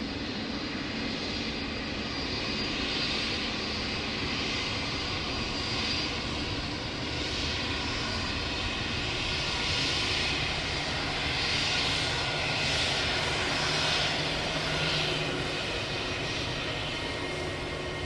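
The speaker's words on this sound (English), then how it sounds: "Jetstar 719 just taxiing past." Jetstar jet airliner taxiing past at Sydney Airport: a steady, broad engine roar with a high whine, rising and falling gently as the aircraft rolls by at moderate distance, with no voices throughout.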